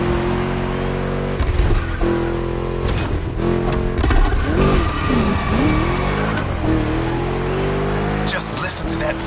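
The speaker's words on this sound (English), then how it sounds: "Just listen to that V8 like a chonky, down-tuned guitar riff." A V8 muscle car engine in the PS5 racing game The Crew Motorfest roars close and loud, revving and shifting through gears with tire noise, while a voice talks faintly underneath.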